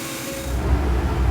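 A Dremel 4300 rotary tool fitted with a Kutzall burr carves wood in a short, steady, close grinding whir with a rough rubbing texture.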